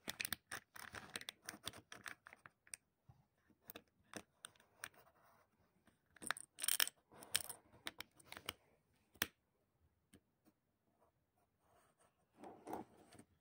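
A pencil scratches and taps as it traces around the edge of a plastic Toffifee tray, with irregular close bursts of scraping strokes separated by quiet pauses.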